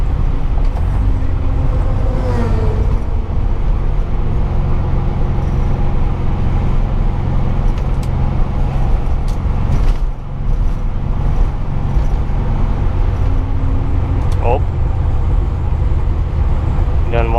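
A Volkswagen Beetle drives through city streets at night, its engine and road rumble a loud steady drone throughout, with a brief dip midway and occasional sharp clicks from the car.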